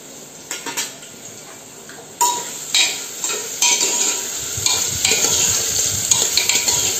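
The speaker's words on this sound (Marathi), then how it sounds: "आता त्याच्यात कांदा फ्राय होऊ दे जरा, कांदा फ्राय व्हायला पाहिजे" Onions frying in a pan while a village-style prawn curry with masoor dal, kokum and tomato is cooked, with steady sizzling and scattered clinks and scrapes of a utensil stirring against the pot.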